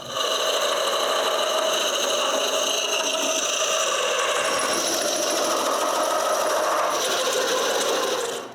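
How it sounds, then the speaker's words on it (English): A makeshift wood lathe spinning a wooden bandsaw pulley as a gouge cuts it, giving a steady loud mechanical whir with harmonic hum and a rattling, chattering edge throughout. "When it's round, I switch gouge and turn a strap shape in the pulley."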